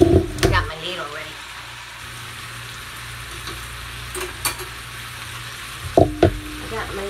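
Ham soup ingredients cooking down in a pot give off a steady low sizzle and bubbling, with a few louder clanks and stirring knocks near the start and end.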